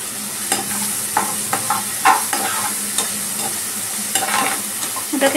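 Basa fish curry ingredients, ground to a paste, fry gently in a pan over a low flame, with a soft steady sizzle broken by repeated scraping stirs of a spatula; no one speaks.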